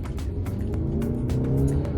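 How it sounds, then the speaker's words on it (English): A 2021 Hyundai Santa Fe in sport mode revs and accelerates on an open road, with a steady, loud engine drone building in pitch under faint road and tire noise, heard from inside the cabin without talk. "The engine revved up nicely there."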